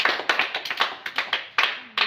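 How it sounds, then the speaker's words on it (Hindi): School children clapping together in a village school, a lively close rhythm of loud, uneven hand claps running steadily without pause. "हमारे स्कूल के बच्चा देखियो कते सुंदर बजा ताली"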